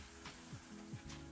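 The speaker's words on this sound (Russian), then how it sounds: "И жарим пирожки, периодически переворачивая, на нагреве чуть ниже среднего до золотистого цвета." Quiet sizzling of Russian pirozhki frying in a pan on medium-low heat, faint oil crackle with a few soft clicks of turning, brief and close.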